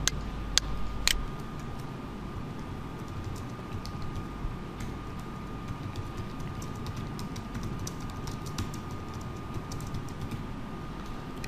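Quiet, steady keystrokes patter on a computer keyboard as a check-in comment is typed in Visual Studio 2012, a fast, even clicking that runs alone through the whole stretch after a couple of sharper opening taps.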